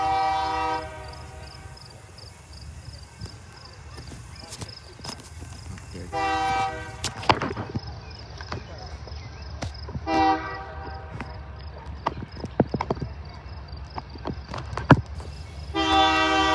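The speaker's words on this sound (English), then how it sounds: "Here is the train." Train engines pass in Plymouth, Michigan, sounding several loud, long horn blasts over a rumbling roll with sharp clacks of wheels on rail joints, fairly close; a person speaks briefly.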